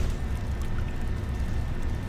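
Water draining inside a flooded section in Star Wars: Knights of the Old Republic, a dense, steady low rushing and gurgling roar that holds loud and even throughout, with no talk.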